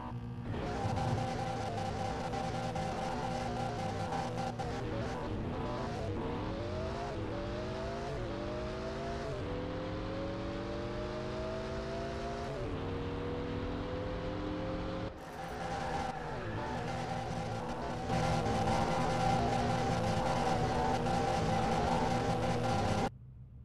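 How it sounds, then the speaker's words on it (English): A Koenigsegg Agera on its stock engine in the Car Parking Multiplayer video game revs hard and accelerates through a series of rising gear pulls, each whine climbing then dropping at the shift. It roars loudly throughout with no talking. "let's test the performance of stock engine in this car"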